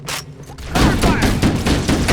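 Rapid gunfire in Halo: Combat Evolved Anniversary bursts out loud and close, a dense fusillade of overlapping shots after a brief quieter lead-in.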